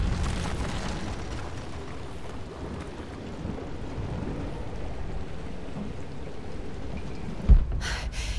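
Greek fire bursting in Rise of the Tomb Raider: a steady, loud rumbling roar like a blaze or collapse that fills the scene, then a sharp thump near the end followed by brief crackling bursts.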